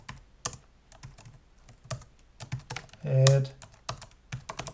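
Keystrokes on a computer keyboard clatter in quick irregular bursts close by, while a person speaks briefly over the typing.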